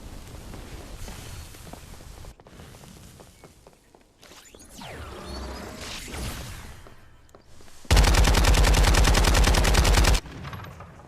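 Automatic gunfire in the battle-royale video game Farlight 84, mixed game noise and scattered shots building to a loud, sustained rapid burst near the end before cutting off.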